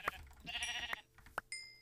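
Sheep bleating in a video game: a couple of short, faint bleats in quick succession, mixed with light clicks and game noises.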